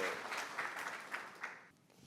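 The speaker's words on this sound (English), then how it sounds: "please welcome Marcelo with a warm applause" Audience applause at a Berlin tech meetup, a steady crowd clapping for about two seconds before fading out.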